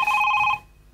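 A telephone rings once in a short, bright burst and then stops abruptly, loud and close with no talking over it.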